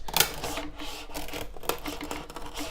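Mechanical grinding and rasping of a hand-cranked Big Shot die-cutting machine pressing paper through, steady and close, with a sharp click near the start.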